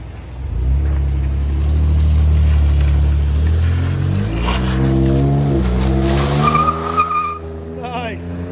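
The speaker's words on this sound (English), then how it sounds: "F-150 EcoBoost V6 muffler delete and left the resonator on there." Ford F-150 3.5L EcoBoost twin-turbo V6 with the muffler deleted and the resonator kept: a loud, close, steady exhaust rumble that swells into a rev around the middle, then drops back toward idle.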